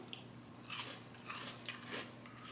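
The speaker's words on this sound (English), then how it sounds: "Can you hear the crunch on the onion rings?" Crunchy bites into gluten-free battered onion rings, with a few distinct crisp crackles spread over a couple of seconds, up close and heard alone.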